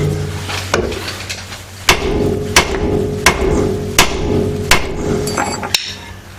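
A steel hammer strikes a car's lower ball joint on the steering knuckle during a brake, rotor and axle job: about eight sharp metallic blows at a steady, spaced rhythm, close and loud with ringing after each hit.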